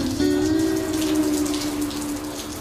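Rain falls steadily on a house building site where a roof is being put up, giving a continuous close patter alongside a low mechanical hum.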